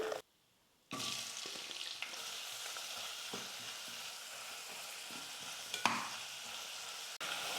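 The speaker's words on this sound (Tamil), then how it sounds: "இப்போ இந்த வெங்காயத்தை சேர்த்துக்கிறேன்." Thinly sliced onions frying in hot oil in a pan for mint pulao, a steady close sizzle with occasional stirring scrapes and clinks, no talking.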